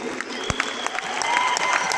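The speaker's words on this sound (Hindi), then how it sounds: "एक बार जोरदार तालियां हो जाए ट्रेनिंग के लिए, ऐसे फंक्शन के लिए" A crowd applauding, many hands clapping in a dense patter that builds slightly toward the end.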